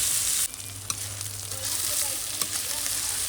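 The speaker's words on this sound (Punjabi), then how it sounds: "ਸਾਗ ਤੜਕਾ ਲਾ ਰਹੀ ਆ" Tadka for saag sizzles and crackles in hot oil, a loud close hiss with sharp pops and a faint clink of stirring, no talk over it.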